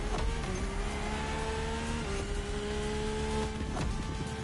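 Hypercar engines race together in The Crew Motorfest at sunrise, a loud, steady blend of high-pitched revving with gear-shift dips and cars sweeping past, no talk.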